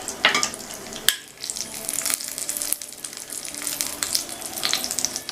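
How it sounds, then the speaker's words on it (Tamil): Cashews and raisins sizzle and crackle in hot ghee in a pan, a steady loud frying hiss with occasional stirring scrapes and bursts, no voices. "அந்த ஸ்டேஜில் கொஞ்சமாக உலர்ந்த திராட்சையும் சேர்த்து வறுத்துக்கலாம்."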